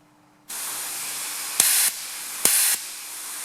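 Compressed air from an air nozzle hisses steadily into a John Deere tractor power steering valve, with two brief louder, sharper bursts of air partway through, close and without talk.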